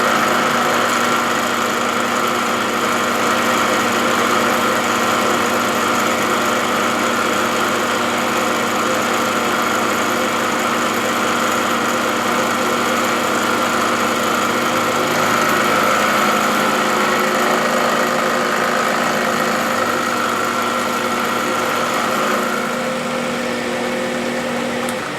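A Hamilton 6-inch metal lathe runs at about 1800 RPM, producing a loud, steady mechanical whine and hum with constant tonal drone throughout, unbroken and without voices.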